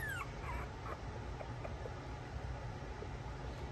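Toy poodle puppies whining softly, faint high whimpers coming and going over a quiet hiss.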